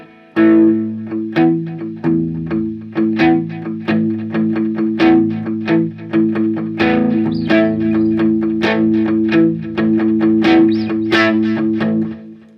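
Les Paul electric guitar through a Boss Katana Artist MKII amp with delay, playing a steady run of picked notes with repeating echoes trailing each one, loud and continuous with no talking.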